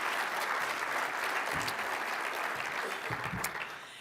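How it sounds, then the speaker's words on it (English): An audience at a 2015 State of the City presentation claps in sustained, dense applause that holds steady and then starts to fade near the end. "Let's give them a round of applause."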